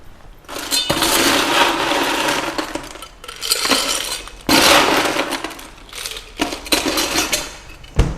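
Ice is scooped and dropped into a cup while a milk drink is made. Several loud bursts of rattling, clinking cubes come in separate spells over several seconds, with short quiet gaps between them.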